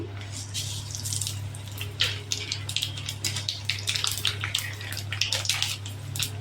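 Dry red chillies and whole tempering spices frying in hot oil for a vegetarian pumpkin dish: a close, steady crackling sizzle with scattered sharp pops over a low hum.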